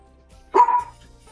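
A dog gives a single short bark, sharp and fairly close, against a quiet background during an online meeting.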